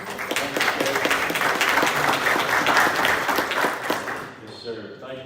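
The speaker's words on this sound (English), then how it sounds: "let's give the sheriff department a clap" Sustained applause at a county commission meeting honoring the sheriff department, steady clapping for about four seconds before it fades and a voice follows.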